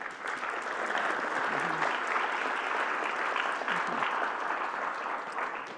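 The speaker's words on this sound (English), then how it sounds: "Let's give an applause for Felina." A congregation at a Día de los Muertos worship service applauds Felina with steady, moderately distant clapping that holds an even level throughout, without talk.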